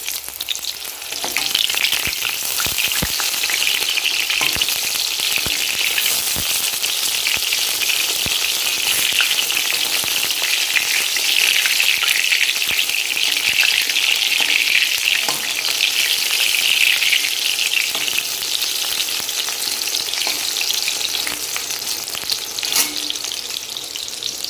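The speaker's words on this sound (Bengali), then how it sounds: "ওই জন্য অল্প করেই বেগুনটা ভাজছি" Brinjal pieces fry in oil with a loud, steady, close crackling sizzle that barely changes for over twenty seconds, a few faint clicks scattered through it and nobody speaking.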